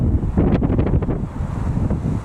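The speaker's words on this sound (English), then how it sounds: "it is windy" Gusting wind buffets an outdoor microphone at an airport, a loud, rumbling low roar with brief flaring bursts, steady throughout with no voices.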